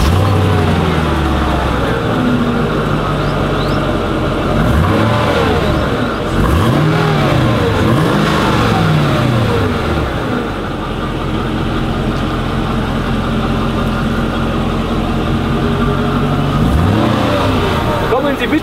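A Mercedes SL500 with the M113 V8 and its original exhaust revs repeatedly, rising and falling in loud, deep bursts over a steady idle rumble.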